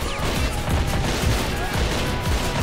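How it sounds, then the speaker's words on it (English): Exchange of gunfire in Army Men of War, a dense, continuous fusillade of overlapping shots and crackling bursts that stays loud and busy throughout with no pauses. "We've got a good exchange of fire right here."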